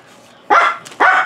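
An old dog barks twice in quick succession, loud and close, with a brief pause between the barks in an otherwise quiet home setting.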